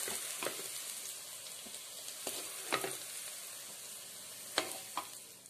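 Pork vindaloo stirred and scooped from a frying pan: a steady sizzle underlies sharp clinks and scrapes of a spoon against the pan, coming at irregular intervals, close and fairly loud, with no voices.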